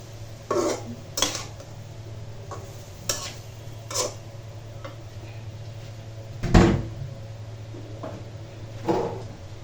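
Spoon scrapes and clinks against a pot or bowl while ingredients for a sweet, sour and spicy elephant apple (chalta) pickle are stirred together, a handful of sharp knocks spaced a second or two apart over a low steady hum.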